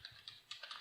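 Brief burst of typing on a computer keyboard while writing React JS code, five or six quick, faint key taps in a quiet room.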